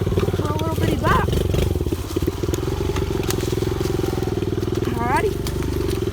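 A small pit bike motorcycle climbs a steep trail hill, its engine buzzing loud and close with a steady chugging pulse throughout. A rider speaks briefly over it.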